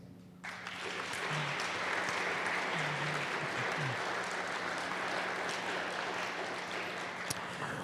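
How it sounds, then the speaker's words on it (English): Audience at a Veterans Day gathering breaks into sustained applause, swelling quickly from quiet into a dense, even wash of clapping that holds steady, with a low hum running beneath. "Please give another round of applause to both of our speakers"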